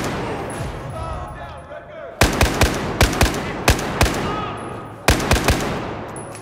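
Rifle gunfire in the Battlefield 4 campaign: sharp, loud, close shots in quick bursts, two groups of several rounds separated by a brief pause, with game ambience and a voice at the start.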